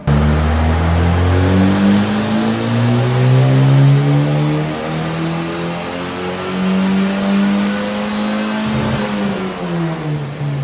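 A Volvo B230 engine fitted with the Volvo V (Penta) camshaft revs hard on a dyno in a loud, sustained pull, its pitch climbing steadily over several seconds before dropping back with a brief pop near the end.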